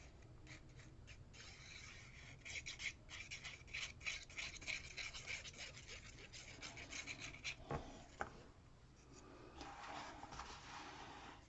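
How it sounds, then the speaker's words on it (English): Glued paper is rubbed firmly by hand while building a flip box, a faint, quiet, repetitive scraping and rubbing with soft strokes and small taps, no voices. "So I'm going to go ahead and burnish that really well."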